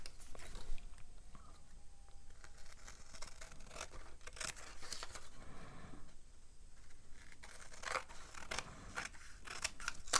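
Scissors trim the edges of a handmade journal made from recycled trash, with repeated close crisp snips and paper rustling in an irregular rhythm.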